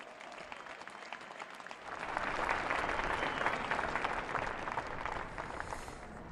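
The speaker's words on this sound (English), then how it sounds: "let us welcome our President and his address with another round of applause" An audience applauds the president at the inauguration of South Africa's president. The clapping starts faint and builds into a full, sustained ovation that continues to the end.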